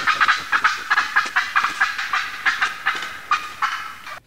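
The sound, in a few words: turkeys cackling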